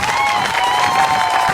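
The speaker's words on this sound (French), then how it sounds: "prouvent d'ici, par une salve d'applaudissements, toute notre sincère gratitude" Audience at a Gabonese political party's UPR 90-day celebration, applauding and cheering in a steady, dense wash of clapping and crowd noise.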